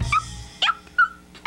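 A small dog gives a few short, high yips and barks, spaced apart and fairly close, with quiet gaps between them.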